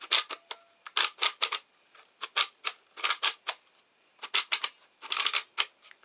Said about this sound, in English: there's like a ratchet mechanism in here